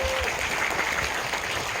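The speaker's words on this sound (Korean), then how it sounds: "박수 부탁드릴게요." Steady, dense applause from an audience filling a cinema hall after a film talk, loud and continuous throughout with no break.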